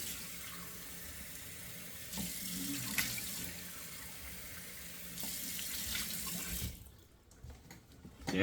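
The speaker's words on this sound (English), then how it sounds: "2 splashes of cold water" Cold water running from a bathroom tap into a sink as a face is splashed, a steady close rush broken by a few splashy surges before it cuts off near the end.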